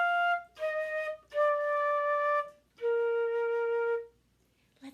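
A short melody of sustained, breathy wind notes, four tones in steady succession with brief gaps, played alone and close.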